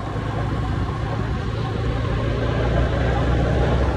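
A motorbike ridden along a road, giving a steady, continuous engine drone with low rumble and wind noise, fairly loud and close, with no clear talk over it.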